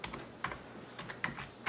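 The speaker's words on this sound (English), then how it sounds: "I can type whatever I want" Typing on a USB keyboard linked to a phone through an OTG cable: a quick run of close, crisp key clicks in short bursts, with no talking.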